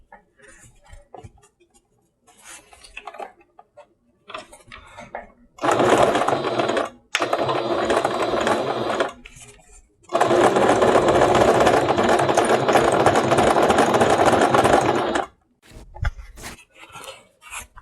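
A sewing machine runs a zigzag stitch attaching fabric panels for a bushcraft chair, with loud, close whirring bursts of a few seconds each separated by pauses and faint handling noises.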